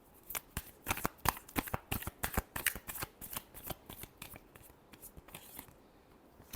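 Tarot cards are shuffled in a quick series of crisp, close flicking and slapping sounds in a steady rhythm, with the pace slowing near the end.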